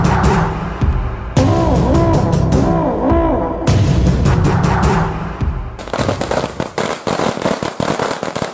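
Rapid volleys of sharp gunshot-like bangs, loud and close, first in short bursts and then as a dense crackling barrage toward the end.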